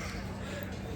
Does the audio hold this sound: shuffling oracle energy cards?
no